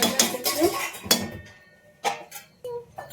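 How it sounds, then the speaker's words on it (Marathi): A metal lid is set onto a pot of simmering soybean curry, with a few sharp clanks and clinks spaced out among brief pauses. "तर झाकण ठेवते थोडा वेळ"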